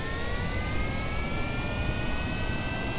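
Steady aircraft engine roar at half throttle in Kerbal Space Program, a continuous broadband rush with faint rising whine tones, even and unbroken throughout.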